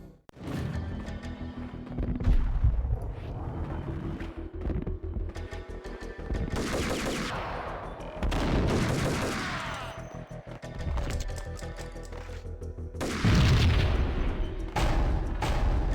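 Gunfire in the action game Max Payne: repeated bursts of shots and booming impacts, loud and close, arriving in clusters over a steady background.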